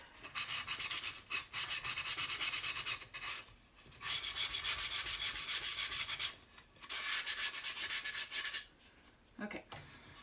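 Sandpaper rubs across a chalk transfer on an Easter decoration in steady back-and-forth strokes, coming in close, loud bursts of a few seconds each, separated by short pauses.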